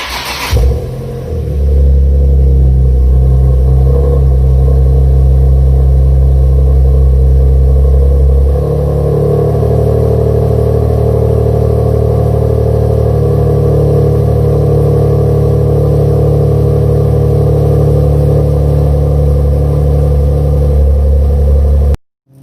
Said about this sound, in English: So I'm gonna go ahead and turn on the car right now. I'll give you guys a cold start